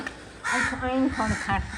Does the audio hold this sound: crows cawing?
yes